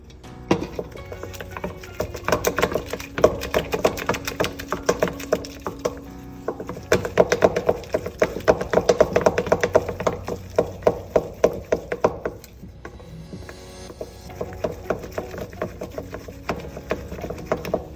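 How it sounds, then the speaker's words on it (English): A wooden spoon mixing thick cream puff dough in a bowl, giving a dense run of close, rhythmic scraping and thudding knocks that continues with short pauses. "I'm using a wooden spoon."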